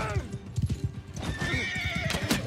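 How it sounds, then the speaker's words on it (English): A horse whinnies loudly up close over rapid hoof clip-clops in a Warhammer video game mod, a short burst of galloping and neighing. "I did shoot the horse."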